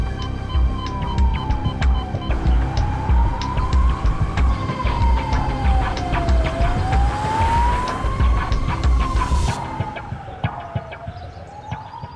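An ambulance siren wails in a slow rising and falling sweep, loud and close over rumbling traffic, running steadily for several seconds before the siren cuts off and the street noise fades.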